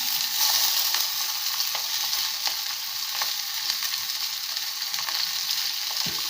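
Onions and chopped vegetables fry in a pan with a little oil, giving a continuous, close, bright sizzle with faint crackles and an occasional stirring knock, with no talk.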